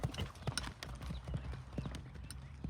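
A horse walks on a hard surface, its hooves clip-clopping in a steady, fairly close rhythm of distinct knocks, with faint voices in the background.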